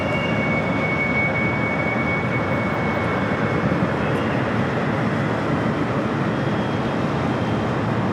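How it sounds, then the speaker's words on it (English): A Turkish Airlines Boeing 787-9 Dreamliner touching down on runway 25 left at LAX, a loud, steady, broadband engine roar that holds constant throughout with no voices. "Turkish Flight 179 coming from Istanbul, a 787-9 Dreamliner touching down there on the south side at 25 left."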